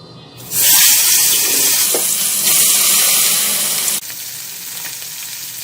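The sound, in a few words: fish marinated in salt, chili and turmeric frying in oil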